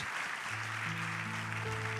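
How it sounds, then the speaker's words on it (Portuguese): Applause from a church congregation giving thanks to God, a steady dense wash of clapping heard alone at moderate distance, with sustained organ or keyboard tones rising underneath. "Dê uma salva de palmas a Deus, Senhor"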